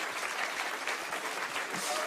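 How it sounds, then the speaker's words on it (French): A comedy show audience breaks into a short burst of applause, fairly soft and close, with a voice talking faintly over the clapping. "Non, applaudis pas ça."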